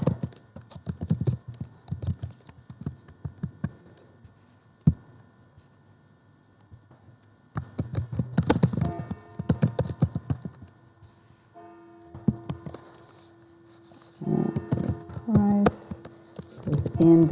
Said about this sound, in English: And I'm just typing this quick because,